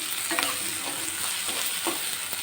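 Onions frying toward brown for a chicken and boiled egg curry give a continuous close sizzle, with light spatula stirs and scrapes scattered through it.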